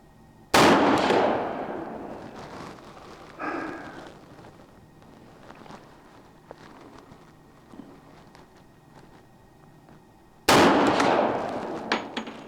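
Colt Gold Cup National Match pistol fired at a target, two sharp loud shots about ten seconds apart, each with a ringing decay, a fainter metallic clank between them.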